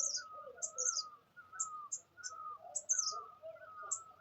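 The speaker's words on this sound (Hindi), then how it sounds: "चिड़ियों की चहचहाने की आवाज़ भी आ रही होगी आपको।" Birds chirp repeatedly at a distance, short high tweets over a steadier warbling call, quiet and calm with no talking.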